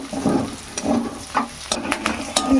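Spices, lentils, ginger and garlic sizzle in a pan while fresh chickpea greens are cooked, with a steady crackle broken by intermittent stirring scrapes.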